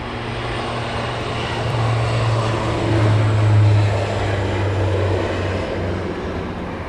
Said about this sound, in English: Flybe is now rolling.